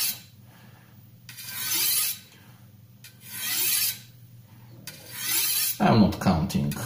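A kitchen knife stroked across an IKEA FLAKSA ceramic rod sharpener with light pressure gives three separate bursts of bright rasping, each about a second long with short quiet gaps. A louder scrape or clatter closes the run.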